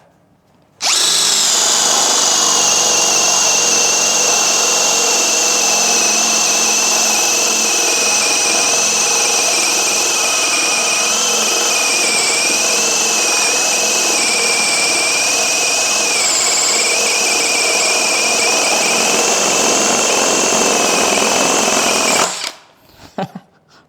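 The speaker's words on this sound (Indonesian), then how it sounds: "ini yang paling gede bor kipas yang saya punya ya, 32 mili" An INGCO CIDLI205 brushless cordless drill whines loudly and steadily for about twenty seconds, boring continuously with a 32 mm spade bit, its pitch wavering slightly under load before stopping.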